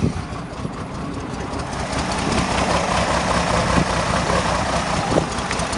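Chevrolet Monza car engine started and left running, a rough, loud, close idle with a low rumbling drone, with a fault of missing on one cylinder.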